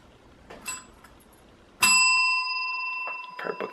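A bright bell chime rings out, a bicycle-bell-like ding with a long, clear ringing tail, preceded by a couple of faint tinkles and followed by a few light knocks.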